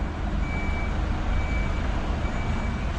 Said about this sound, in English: might get the lorry going in